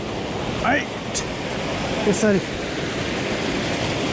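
Baspani waterfall pours with a steady, hissing rush of water that fills the background, while people speak briefly over it.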